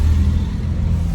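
A husband's vehicle carrying him and his wife on a ride drones with a steady, loud low engine rumble and road hum, unbroken and without any talk.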